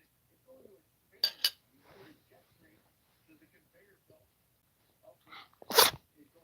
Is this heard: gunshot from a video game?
no